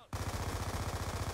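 Automatic gunfire in Call of Duty Black Ops 2 multiplayer, an MP7 shooting through a wall, a rapid, evenly spaced burst of loud close shots after a brief quiet start.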